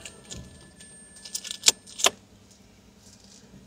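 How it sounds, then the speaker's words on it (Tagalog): Keys for a 2026 Mitsubishi Xpander GLX/GLS automatic jangle in a few quick, bright metallic clinks close by, set in a quiet interior with no talking. "Ito yung susi niya."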